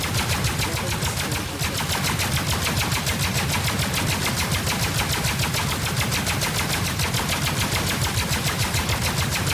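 Continuous ship weapon fire in the space game Star Citizen, with overclocked components: a loud, unbroken, rapid machine-gun-like stream of shots that never pauses, with no talking.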